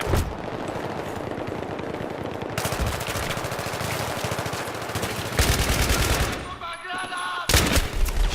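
Sustained rapid machine-gun fire in the video game Battlefield 3 rattles continuously with brief pauses, heavy and close, followed by a few more bursts near the end.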